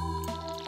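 Crops being watered with a watering can in the Stardew Valley video game, a short soft splash of poured water over a steady background music tone, with no talking.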